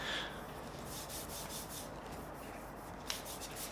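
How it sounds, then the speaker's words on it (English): A soft, steady rubbing scrape of a finger across a rough, freshly sanded spoiler surface on a Volkswagen MK4 GTI, faint and close, with one tiny click near the end. "you can hear the difference when I run my finger on it"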